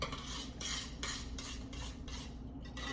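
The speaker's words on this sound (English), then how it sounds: "We're gonna go ahead and stir that in." A spoon stirs red tomato sauce in a pot in repeated, rhythmic strokes, each scrape clear and close against the pot, about six passes with faint bubbling underneath and no voices.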